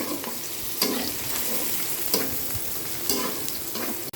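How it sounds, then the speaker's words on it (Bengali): Garlic, onion and green chili fry in hot oil with a steady close sizzle, while a utensil scrapes and stirs through the pan in a few sharp strokes. "রসুন, পেঁয়াজ, কাঁচামরিচ তেলের মধ্যে ভালোভাবে টেলে নেব।"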